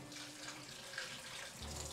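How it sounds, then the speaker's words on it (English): Warm water streams steadily from a kitchen tap into a clear glass, a continuous close splashing hiss that deepens slightly near the end as the glass fills. "I'm just getting a little bit of warm water to activate the yeast"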